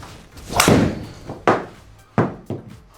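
A golf tee shot on a practice tee: a sharp club-on-ball strike rings out, followed by three further crisp, hollow knocks spaced under a second apart, close and fairly loud against quiet surroundings.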